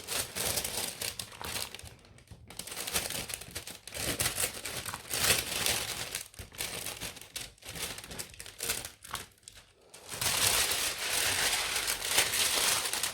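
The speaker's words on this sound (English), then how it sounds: "A lot of crinkling, I'm afraid," The plastic cover on a diamond painting canvas crinkles and crackles close up in irregular bursts as it is stretched and pushed down, growing louder toward the end.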